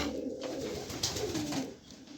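A male pigeon coos in low, rolling murmurs, close and fairly soft, with no talk over it.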